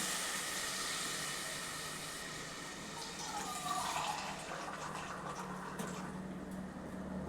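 Dissolved tamarind water poured into a simmering fish curry gives a steady, close liquid hiss and splash that runs unbroken throughout, with no voices.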